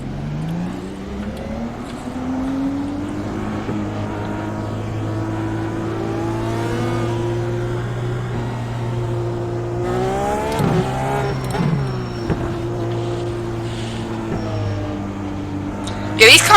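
Dallara DW12 race car engine at Laguna Seca in iRacing, a steady high-pitched drone with rising and falling revs through gear changes and a sharp downshift, heard continuously under a talking voice.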